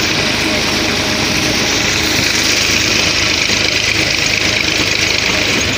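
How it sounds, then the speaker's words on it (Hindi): A road trolley engine runs steadily while being driven, a continuous loud drone and rumble heard close without a break throughout. "रोड ट्रॉली को ड्राइव कर रहा हूँ, ये देखें।"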